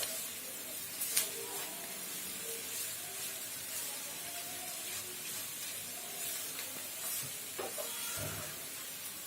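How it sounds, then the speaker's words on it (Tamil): Bitter gourd frying in a pan, stirred now and then, giving a steady low sizzle and hiss with occasional soft scraping clicks from the spatula, continuous and fairly quiet throughout with no talking. "ஒரு 2 மினிட்ஸுக்கு ஒன்ஸ் பாவக்காவை கிண்டி விட்டுட்டே இருங்க."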